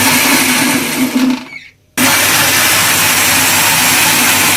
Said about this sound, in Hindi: इसे हमें अच्छी तरह ब्लेंड कर लेना है।